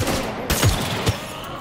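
Gunfire in Cyberpunk 2077, a few sharp, loud shots in quick succession, close and punchy, each followed by a brief low rumble.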